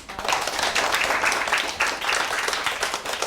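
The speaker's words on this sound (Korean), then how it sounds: "우리 박수 한번 더 주세요." Audience applause at a high school foreign-language certification presentation and alumni meeting: steady, dense clapping from a room of students, fairly loud, continuing through the whole stretch without talk.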